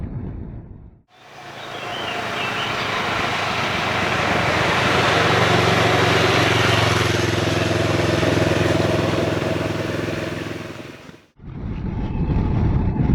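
A 2021 CF Moto MT650 motorcycle engine drones loud and steady at speed on the road, with heavy wind roar and a constant mid-range hum that swells slightly before the ride briefly cuts away.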